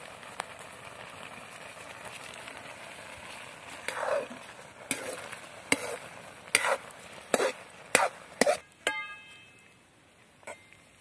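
Semolina being stirred into boiling water in a pot, with a steady low bubbling hiss broken by a run of sharp spoon scrapes and knocks against the pan that grow louder and more frequent before fading.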